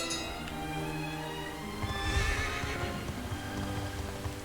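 A horse neighs and whinnies in the video game Dragon Quest XI S, with clip-clop hoofbeats alongside and a swell of game music, loud and close with no talk.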